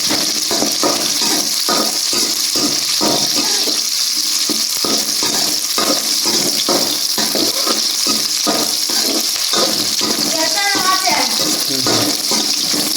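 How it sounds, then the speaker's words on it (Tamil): Chicken sautéing in a pan for a Tamil-style chicken fry, with a steady sizzle and the repeated scrape of stirring, close and loud with no talking. "நல்லா வதக்கணும்."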